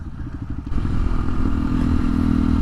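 A Honda XR150L with exhaust and intake mods and a rejetted carburetor runs loud and close, its single-cylinder engine thumping steadily, then rising into a fuller, busier drone after a brief pause.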